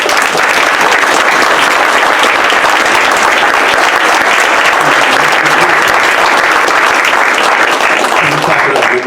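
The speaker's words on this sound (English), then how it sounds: "Can we clap it up one more time for all the folks" A roomful of people claps loudly and continuously at a social justice authors' event with a poet, a dense, sustained wash of applause filling the whole stretch without letup.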